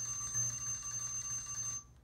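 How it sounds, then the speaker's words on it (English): A visual classroom timer's alarm rings out in a steady, clock-like electronic tone lasting under two seconds before cutting off abruptly. "it also has the auditory cue that will go off"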